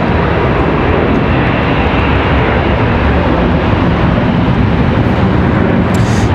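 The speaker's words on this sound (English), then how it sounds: "The departure we just missed, an A319" An Airbus A319 jet departs Charlotte Douglas International toward Milwaukee. Loud, steady broadband engine roar fills the whole stretch with no break and no voices.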